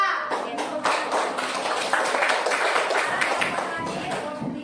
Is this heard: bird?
no